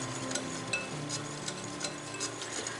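Flour mixed with salt and turmeric for minikaja sweets gives faint, steady scraping and soft rhythmic clicks, close by and with no voices.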